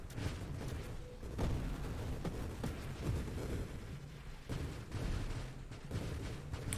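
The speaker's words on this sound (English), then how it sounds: "That's just a whole lot of bullet action." Dense, continuous barrage of bullet fire in the space shooter Nova Drift, with rapid overlapping shots and booming impacts running the whole way through at steady high intensity.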